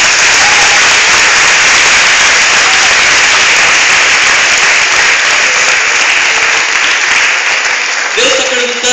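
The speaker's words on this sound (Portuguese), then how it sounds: "Aplauda o Senhor" A congregation at a Baptist youth celebration service in church breaks into loud, dense applause that holds steady throughout and fills the room, ending with a brief voice near the close.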